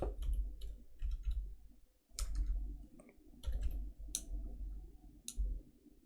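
Clicks from a computer mouse during a screen tutorial, sharp close ticks coming singly and in quick pairs at irregular intervals over a faint low room hum, with no talking.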